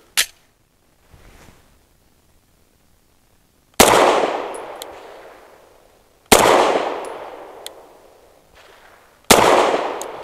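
BUL M-5 pistol firing 147 grain HST rounds outdoors: three sharp, loud shots spaced a few seconds apart, each with a decaying echo, after a small click at the start.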